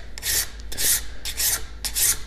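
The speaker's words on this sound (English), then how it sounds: "And I'm just gonna draw a file" A hand file is drawn across a metal bottle opener in draw filing, giving four loud, even rasping strokes in a slow regular rhythm, each a close gritty scrape with brief pauses between.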